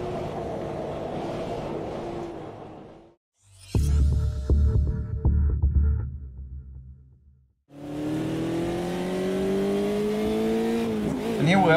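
A Puma GDE race car lapping Monza's 1971 historic Junior layout in Automobilista, its engine droning and rising in pitch, cut by a short burst of other clattering sound before the steady engine note returns.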